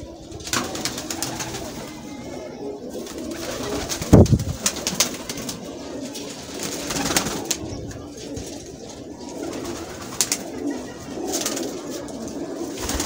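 Lahori pigeons coo softly in low, rolling murmurs, with a brief sharp knock partway through and faint background rustle throughout.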